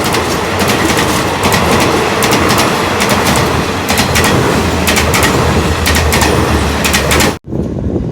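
An Alsthom ALD class locomotive, number 4301, hauls a train on the southern line: a loud, continuous rumble with rhythmic clickety-clack wheel beats passing close by, ending in an abrupt cut.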